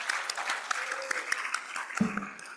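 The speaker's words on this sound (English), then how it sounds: "a big round of applause for these guys." Audience applause fills a hall at a business plan competition for finalists, a steady dense patter of many hands at moderate level, with a brief low thump near the end.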